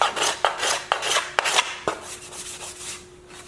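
A scraper card works across hardwood on a Sitka violin, giving about five quick, rasping scrape strokes in an even rhythm, close and crisp, before fading to a faint lingering tone.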